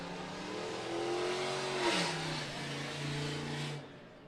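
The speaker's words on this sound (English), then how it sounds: "it's completely necessary to run down Palm Bay Road with no exhaust like that" Loud car with no exhaust roaring past on a road, engine revving and rising then falling in pitch as it passes close by, a harsh continuous drone lasting several seconds.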